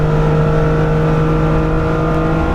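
A car engine holds at redline flat out on a Nürburgring lap, a loud, continuous, unwavering drone with no gear changes or letting off.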